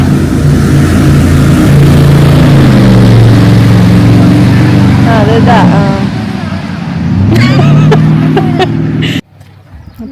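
A motorboat runs close by on open water, its steady engine drone rising in pitch as it passes, with a person talking over it throughout before the sound cuts off near the end.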